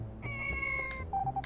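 Cats in Harvest Moon 64 meow in a quick series of short, tonal video-game meows, clear and close, with no talking.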